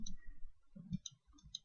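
Several soft, quick clicks of a computer mouse, faint and close, spaced irregularly across a quiet background with no speech.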